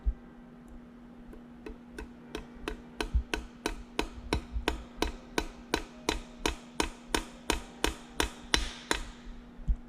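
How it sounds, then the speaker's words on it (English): Hammer blows tapping a part into a Nissan RB26 cylinder head, around twenty evenly spaced metallic strikes that grow a little firmer, close and clear over a steady background hum. "then I'm going to hammer it in slowly."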